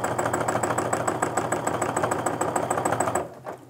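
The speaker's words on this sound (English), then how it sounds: "I'm gonna slow my machine down a little bit more because I feel like those stitches are really close together" Quilting sewing machine stitching a feather border from a stencil, running in a fast, steady rapid-fire needle rhythm that stops abruptly near the end, close and loud with no talk.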